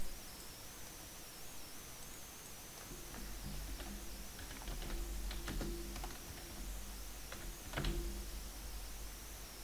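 Typing on a computer keyboard while entering ingredient names into nutrition calculation software, heard as a close, quiet run of uneven key clicks with a few louder taps and no speech.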